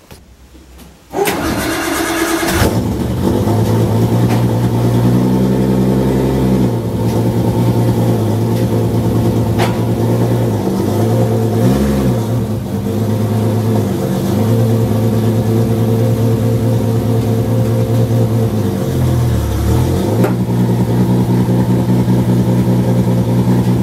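A drift car starts up inside a garage and settles into a loud, close idle, then rises and dips in a few brief revs as it creeps forward and back on the spot, with no talking.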